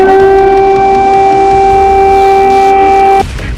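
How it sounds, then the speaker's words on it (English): A loud, steady air raid siren wails over Kyiv with a sustained tone, then cuts off abruptly near the end, leaving a lower background rumble. "Sirens blared across the city"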